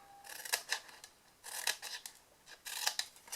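Scissors trim the tabs of a chocolate gift box with soft, close snips that come in small clusters with short pauses between them.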